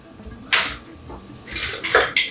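Utensil picked up and clinked against a bowl while stirring rice for a weeknight salmon dinner, a few short sharp scrapes and knocks close by, no talking.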